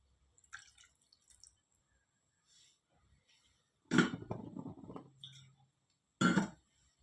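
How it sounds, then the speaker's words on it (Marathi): Water is splashed into a pan of dry prawn and potato masala, two distinct short pouring splashes with faint clinks and drips between them in an otherwise quiet kitchen. "आता आपण पुन्हा एकदा थोडंसं पाणी टाकून छान शिजवून घेऊयात"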